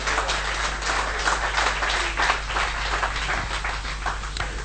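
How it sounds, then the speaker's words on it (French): A church congregation claps during a bishop's sermon, a sustained crackle of many hands over a low steady hum, moderately loud and unbroken. "Applaudissez Jésus-Christ."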